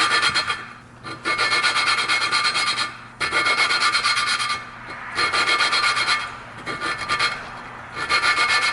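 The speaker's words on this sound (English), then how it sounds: "you're going to notice the more that you grind this valve, the less it's going to take" A valve from a 1995 Kawasaki KLX250 is hand lapped with grinding compound, giving close, gritty rasping strokes in repeated back-and-forth bursts separated by short pauses.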